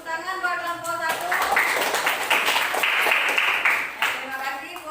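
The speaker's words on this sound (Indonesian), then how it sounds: "tepuk tangan buat kelompok 1" Classroom audience applauding a student group after their presentation, a dense wash of many hands clapping that swells in after a quiet start and holds steady for several seconds before tapering.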